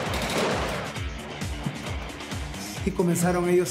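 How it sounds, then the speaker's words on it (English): Gunfire and blasts from a special forces hostage rescue assault at Chavín de Huántar, with repeated sharp bangs and rapid bursts mixed with voices and a wailing tone near the end. "Bangs, gunfire"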